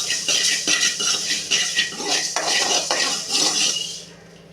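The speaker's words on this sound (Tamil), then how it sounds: "வெந்தயம் நல்லா பொரிஞ்சு வரும்" Fenugreek seeds dry-roasting in a pan give a dense, continuous crackle and tinny rattle of seeds against metal, steady and close for several seconds before cutting off.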